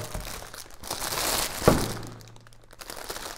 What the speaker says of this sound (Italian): Ma che tristezza è aprire un uovo con tutto questo scotch. Vabbè, apriamo tutto.